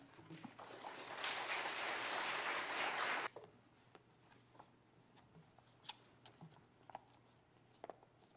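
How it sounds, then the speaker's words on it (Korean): A church congregation at a Wednesday evening service claps for about three seconds as a pastor comes forward, then the clapping stops abruptly and only scattered small taps and room noise remain. "큰 박수로 환영해 주시기 바랍니다"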